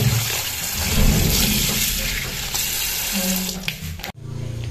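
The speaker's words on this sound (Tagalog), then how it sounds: "Huhugasan ko na rin po mga kabayabas itong ating repolyo." Cabbage is rinsed under a running faucet: continuous loud splashing water with handling noises and clunks, which stops abruptly near the end and leaves a quieter background.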